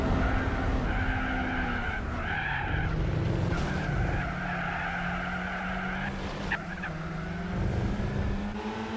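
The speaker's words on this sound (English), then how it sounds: "what tyres is this car on? It sounds squeaky to an old wardrobe from the 1980s." Car tyres squealing in Gran Turismo 4, a loud, sustained, squeaky whine over a droning race-car engine, with the pitch shifting as the car slides through corners.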